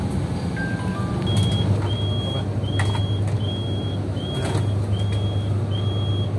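A truck boarding a ferry at a Bali Strait harbour, heard as a steady low engine rumble with repeated high reversing beeps at a regular pace, close and continuous throughout.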